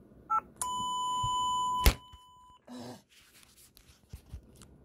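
A 2012 Furby Boom toy in test mode chirps briefly, then holds a steady electronic tone for over a second, ending in a sharp click, followed by soft handling noises and faint rustles.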